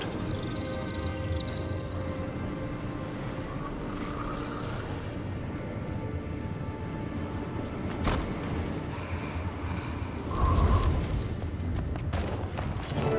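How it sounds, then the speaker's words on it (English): An explosion in the video game Guild Wars 2, Season 3 story, lands as a deep boom about two-thirds of the way through, rising above a steady wash of loud battle ambience. "I've never seen an explosion collapse on itself like that."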